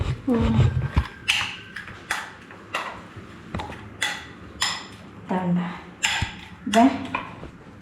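A spoon clinks and scrapes against a bowl while oats breakfast is mixed, giving a series of bright taps and rattles at an uneven pace. A person talks throughout.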